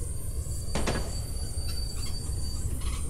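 Steady rumbling roll of a train in the Train Simulator 2017 game, with a faint high wheel squeal running through and a couple of brief clanks, continuous and moderately loud with no talking.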